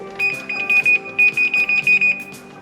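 An oven's electronic timer beeps as it is set for a powder-coating bake. Crisp, close, high beeps come in quick bursts, roughly a dozen evenly spaced tones with short gaps.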